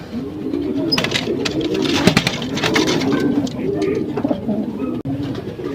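A young pigeon coos in soft, repeated low murmurs close by, with a steady rustling background and no voices.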